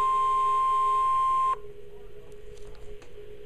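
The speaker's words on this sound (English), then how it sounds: "has just activated the warning alarm on 12 weather radio stations across central and southern Minnesota and west central Wisconsin" NOAA weather radio sending an EAS alarm: a loud, steady single tone near 1 kHz with a broad harmonic buzz holds for about 1.5 seconds, then cuts off abruptly, leaving a low hum and faint clicks.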